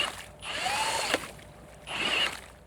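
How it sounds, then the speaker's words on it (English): Large ice core drill boring into Antarctic sea ice: two medium-loud swells of whirring, grinding motor noise separated by a short lull, with no talking. "Then they put a big drill inside one of the holes to retrieve a 3-foot-long piece of ice."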